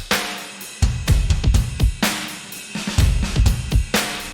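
An indie-rock drum mix thumps along in a steady groove, punchy kick and snare layered with bright clap and snap samples, loud and upfront with no talking.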